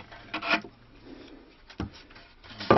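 A chisel scrapes and cuts the wooden binding on a handmade stick dulcimer in a few short rasping strokes separated by pauses, close and fairly quiet, with no talking.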